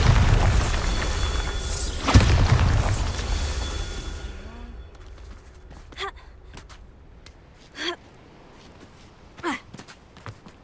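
Bombarda blasting spell exploding in Hogwarts Legacy: a loud booming burst with debris clatter over rumbling ambience, then quieter scattered thumps and footsteps.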